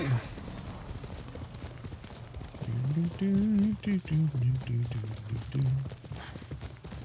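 Horse hooves clip-clopping in Ghost of Tsushima, a steady run of hoofbeats with a single neigh, close and fairly loud, while someone talks over it.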